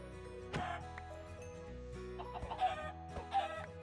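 Chickens in a video game, several soft clucks and short squawks over a faint steady background, fairly quiet and close.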